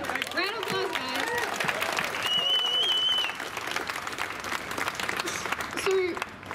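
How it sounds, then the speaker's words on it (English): Crowd applause at an outdoor March for Men rally, sustained clapping with cheers, whistles and a few shouted voices mixed in, holding steady and then thinning toward the end. "Round of applause, guys."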